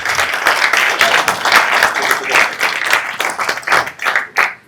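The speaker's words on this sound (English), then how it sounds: "You might want to hold your applause till after I moderated this panel." Audience at a logistics technology conference applauding loudly and steadily, a dense wash of many hands clapping close by that tapers off near the end.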